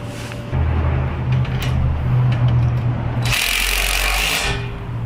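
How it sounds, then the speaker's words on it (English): A powered socket wrench tightens a nut onto a bolt with a lock washer on a sign frame mount, giving a steady close whirring drone of several seconds that ends in a brief harsh ratcheting burst. "Tighten with the wrench in a powered socket"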